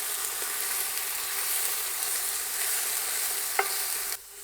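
Beef sizzles and browns steadily in a hot oiled pot for a hearty beef and vegetable soup, a constant bright frying hiss with a soft stirring scrape near the end before the sizzle cuts off abruptly.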